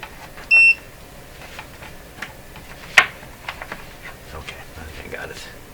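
A soldering iron on an electronics bench gives one short electronic beep early on, followed by faint ticking and a sharp click in a quiet room, with soft low sounds in the background.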